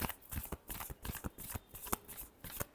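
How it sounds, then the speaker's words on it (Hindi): Tarot cards are shuffled by hand in quick, crisp riffling bursts, about a dozen close rustling flicks in a brisk uneven rhythm, heard up close and quiet with no talking. "last shuffle"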